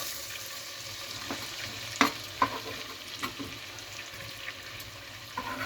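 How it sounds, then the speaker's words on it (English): Butter and oil sizzle steadily in a hot pan as onion is added, a soft continuous crackle broken by a few sharper pops and clinks of a wooden spoon stirring. "my butter and oil sizzling away nicely there"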